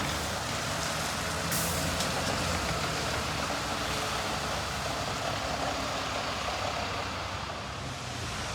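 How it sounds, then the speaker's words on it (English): A First Bus Cornwall bus pulls into Truro bus station, its diesel engine rumbling steadily with a sharp air-brake hiss early on amid broad station noise. "Here is my next bus arriving into Truro bus station, which is operated by First Bus Cornwall"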